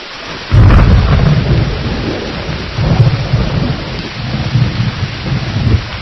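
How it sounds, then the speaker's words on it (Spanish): A heavy thunderstorm with rain pouring down steadily, as deep rolling thunder swells in loud waves over the constant hiss of the downpour, with no voices. "La lluvia seguía y el cielo tronaba"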